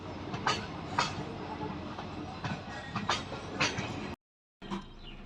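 Train passing close by, a steady rumbling roll with rhythmic clickety-clack wheel beats and sharp clanks, cut by a brief dropout before the rolling resumes.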